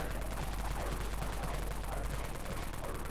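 Wraith Cannon gunfire in the video game Dead Frontier, a dense continuous barrage of rapid shots blending into a loud roar with no pauses.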